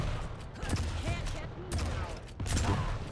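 Rocket launches and explosions in an online arena shooter duel, several booming blasts and whooshes in quick succession under excited commentary.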